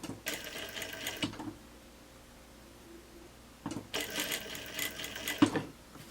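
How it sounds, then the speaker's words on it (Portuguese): A sewing machine stitching a blouse sleeve seam whirs in two short, close bursts separated by a quiet pause, ending with a small click, with no voices. "Um pezinho só de máquina aqui, fica meio centímetro de pé."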